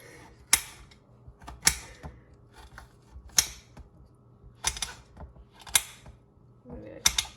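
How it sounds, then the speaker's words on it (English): Knife chopping a bell pepper into small chunks for pizza on a cutting board: sharp, separate chops at an irregular pace, close and crisp, with soft handling noise between the cuts. "I'm going to cut these into some nice little chunks so they're small enough on the pizza."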